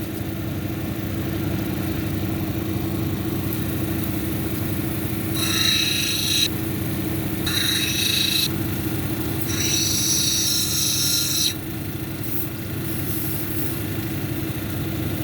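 A lapidary wheel with 220 grit hums steadily while an onyx cabochon is pressed against it in three bursts of harsh, high-pitched grinding, each a second or two long, over the continuous motor drone.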